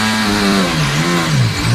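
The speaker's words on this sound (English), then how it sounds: "This is the sound of Sergio Perez" Sergio Perez's Formula 1 car engine revs at the Qatar Grand Prix, a loud, close, rising and falling engine whine with no talk over it.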